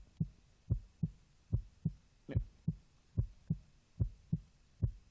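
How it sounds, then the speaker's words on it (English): Heartbeat sound effect from the Cafe Enchante video game: soft, deep thumps in a steady, slightly uneven rhythm, about eleven beats, moderately quiet and heard alone without speech. "Only the sound of my beating heart."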